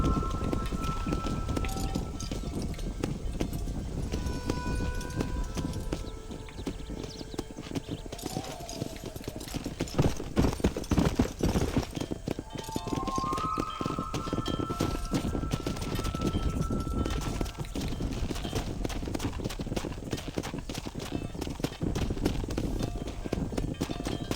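Horse hooves clip-clop at a steady galloping rhythm through the whole stretch in a Red Dead Redemption cattle drive, loud and close, with wind and faint ambient game sounds around them.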